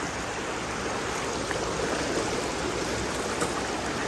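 A river current flows with a steady, close broadband rush of water, continuous and even throughout, with no voices heard.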